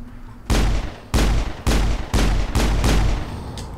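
Gunfire in the video game Mass Effect: five or six loud, booming shots in an uneven rhythm, each close and heavy, with no talk over them.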